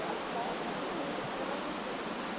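Multnomah Falls in Oregon roars as a steady, dense rush of falling water, broadband and unbroken, heard at a moderate distance with no clear voices over it.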